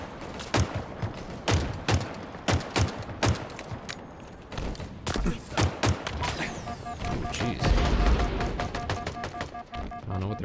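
Sidekick pistol fire in a Halo Infinite multiplayer match, with a fast run of sharp, close shots that gives way to denser overlapping gunfire, impacts and rumbling game effects.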